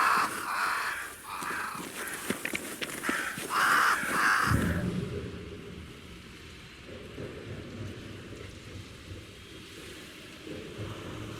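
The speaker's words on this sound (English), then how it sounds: "Crows. They flock to that great tree up there." Crows in Banishers: Ghosts of New Eden caw in a few harsh bursts near a great tree, amid rain and rolling thunder that swell into a steady storm wash.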